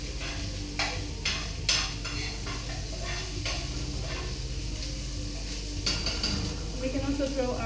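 Dried spices toasting with onions in a pan for cousa mahshy, giving a steady sizzle and hiss with repeated stirring scrapes and clinks of utensils against the pan throughout.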